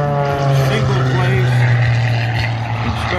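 An Edge 540 aerobatic plane with a steel tube fuselage, composite wings and a modified Lycoming engine flies at an air show, giving a loud, steady propeller drone under a speaking voice.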